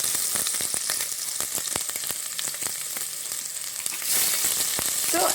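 Ginger garlic paste frying in melted butter over a low flame, a steady close sizzle and crackle with scattered pops, swelling louder toward the end, no talk.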